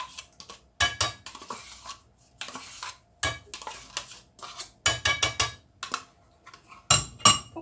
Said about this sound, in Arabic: كنحرك مزيان.